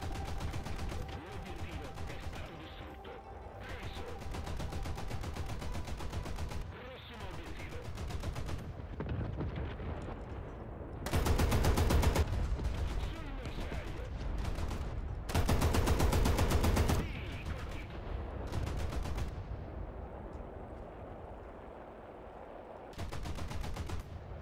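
An M42 Contraereo anti-aircraft gun in War Thunder fires in long, nonstop bursts of rapid, thudding automatic shots, loud and close, with only brief pauses between strings of fire and no reloading.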